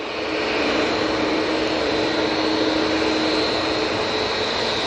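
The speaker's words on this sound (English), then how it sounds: "we do have this EasyJet. It's a A320-200 and it's off to Panama." An EasyJet Airbus A320-200 at Manchester Airport gives a steady, broad jet engine roar at moderate distance, holding constant throughout with no voices.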